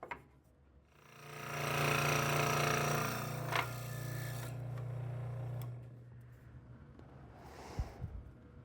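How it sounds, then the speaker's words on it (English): A scroll saw cutting a walnut pocket knife scale, a buzzing, rattling cut of a few seconds that fades into quieter handling noise, close and moderately quiet. "I don't own a bandsaw, so I'll give this scroll saw a try"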